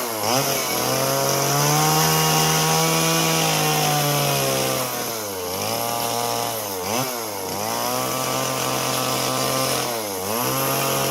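A Stihl MS170 chainsaw carves an owl from a free wood log, its small engine droning loud and close, the pitch falling and rising again and again as the chain bites into the wood and then frees up.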